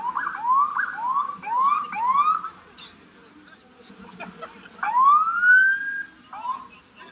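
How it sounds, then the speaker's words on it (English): An ambulance siren wails in repeated rising sweeps as the vehicle pushes through a crowd on a Richmond, Virginia street, loud and fairly close, with voices murmuring underneath. "Looks like an ambulance is trying to make their way through the crowd, coming back after just being here."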